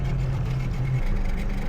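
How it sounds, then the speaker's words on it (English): Outboard motor on a boat fitted with a hydrofoil, straining hard to climb onto plane, a loud steady low engine roar with a deep droning hum, continuous and close without talk. "the engine is revving a whole lot harder in order to get it up on the plane with the canopy up"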